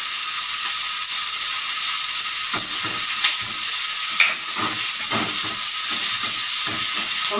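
Onions with salt and curry leaves sautéing in a pan, a steady bright sizzle with scattered scraping and stirring clicks from a utensil, continuous and close throughout, no voices.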